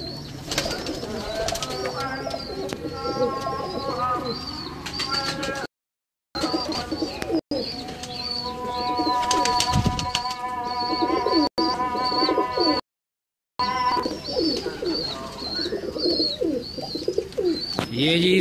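Pigeons on a rooftop loft, with breeding pairs and young birds, coo and chirp continuously and fairly loudly. The layered calls overlap, briefly broken by short silent gaps.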